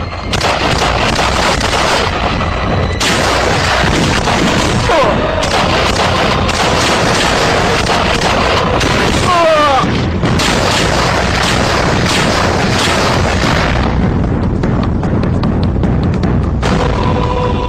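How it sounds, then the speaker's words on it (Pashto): Loud battle scene from a Pashto drama: repeated gunfire, artillery-like booms and bursts of shots continue almost without pause throughout. "دا ډز چا وکړ"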